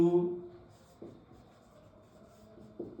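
Marker or chalk strokes on a board as an account entry is written during an accounting lesson, a few short scraping squeaks with pauses between them, quiet, with faint room sound.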